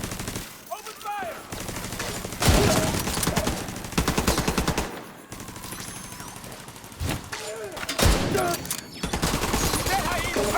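Rapid bursts of automatic gunfire from a firefight in the video game The Division 2, loud and sustained with sharp volleys that briefly drop out and resume, game voices calling out faintly in the mix.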